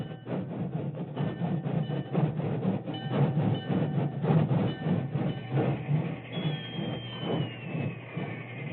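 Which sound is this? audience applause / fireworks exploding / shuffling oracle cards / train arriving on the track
train arriving on the track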